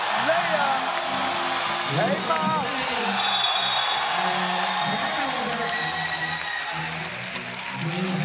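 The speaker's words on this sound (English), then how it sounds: "Got a medium-sized crowd day one. They are loud." A loud, steady crowd roars and cheers throughout a women's 3x3 basketball game between Hong Kong, China and Egypt, with commentary voices and occasional ball bounces mixed into the din.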